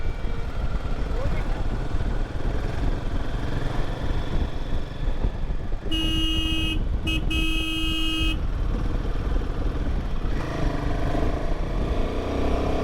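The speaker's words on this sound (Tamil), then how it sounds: "அதனால தான் ஹார்ன் அடிக்கிறேன்." Traffic rumble and engine noise on a rural road between Manjoor and Coimbatore, India, then a vehicle horn sounds twice in short succession before the road noise continues.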